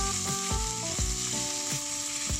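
Stewed beef and holy basil sizzle loudly in a hot pan, with a steady frying hiss broken by regular scraping stir strokes roughly every half second, and no voices.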